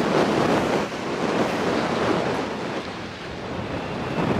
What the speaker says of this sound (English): This is Brighton Beach. Look at the sea.